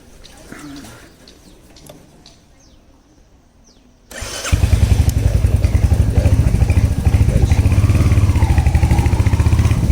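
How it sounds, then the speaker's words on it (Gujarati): A Royal Enfield Hunter 350 motorcycle starts after a quiet outdoor stretch with faint birds, then settles into a loud, steady thumping single-cylinder run recorded close on the rider's chest. "હવે બાઇક ઉપર રનિંગ કરતી વખતે માઇકમાં અવાજ કેવો આવે છે"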